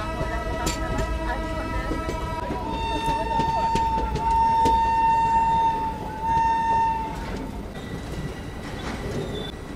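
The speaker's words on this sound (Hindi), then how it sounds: "यहाँ 5 मिनट का हॉल्ट लेने के बाद सुल्तानपुर जंक्शन रेलवे स्टेशन से अपना डिपार्चर हो गया है" Begumpura Express departing Sultanpur Junction railway station after a five-minute halt, heard from inside a 3rd AC coach: rumbling wheels, a long high metallic squeal swelling in the middle, and steady rolling noise, with a voice talking over it.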